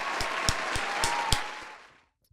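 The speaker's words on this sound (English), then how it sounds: "Round of applause for him." A short round of applause and clapping from a small studio group after a show guest, steady and fairly close, fading out at the end.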